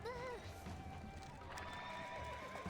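Horses in the video game Reverse: 1999 give sharp whinnies as two of them bolt forward, with hoof clatter alongside. The sound is mixed under music, and a voice speaks over it.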